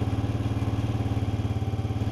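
A Honda CG125 motorcycle engine runs steadily while its petrol mixture is adjusted, a close, even putter with a quick regular pulse and slight clatter, heard alone.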